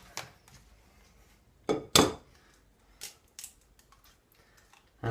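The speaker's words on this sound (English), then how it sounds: "we are going to crack our 3 eggs straight into this" Eggs being cracked into flour for pasta dough, with a few sharp, close taps and cracks spaced apart amid quiet kitchen clinks and no talking.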